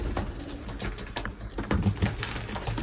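Young racing pigeons coo softly while being fed in their loft, with low throaty calls overlapping close by amid scattered rustles and light wing or foot movement.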